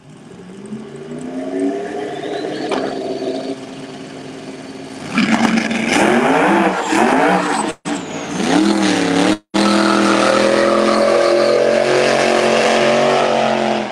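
Drag race cars rev and launch down the strip during open testing at Galot Motorsports Park, engines building to a loud, rising scream and then roaring steadily away, with a couple of sharp dropouts.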